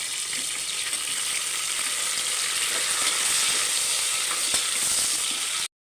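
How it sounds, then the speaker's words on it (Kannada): Fennel seeds and sliced onion frying in a pan for pulao, a steady close sizzle with faint scraping and stirring throughout, heard alone until it cuts off abruptly near the end. "ಸ್ವಲ್ಪ ಫ್ರೈ ಆಗಲಿ"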